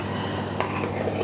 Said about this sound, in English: scraping it in on the bigger spoon and using the smaller spoon to scrape it off.